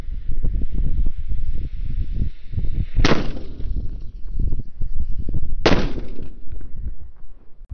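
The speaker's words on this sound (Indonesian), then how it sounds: "mercon yang beledosnya banter, ini ada mercon raja kera" Two sharp firecracker bangs crack out a few seconds apart over a constant low rumble and crackling background of Roman candles and other fireworks.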